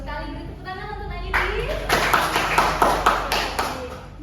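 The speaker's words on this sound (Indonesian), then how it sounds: "Beri tepuk tangan untuk Nadine." A classroom of students claps for a classmate during a micro-teaching lesson, starting after a brief voice and building into a series of rhythmic, fairly close hand claps that land in regular bursts.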